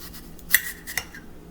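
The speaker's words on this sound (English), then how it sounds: "And then basically I am just going to slice them." Knife slicing through apples in a kitchen, two sharp clicks as the blade meets the board, quiet and close with little else around.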